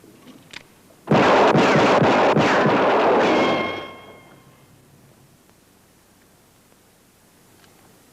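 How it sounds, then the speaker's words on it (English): A single loud blast, likened to a .45 caliber gunshot in a 1950s western TV drama, roars close for several seconds with a ringing tail, then fades into quiet room tone. "Sounds just like a 45,"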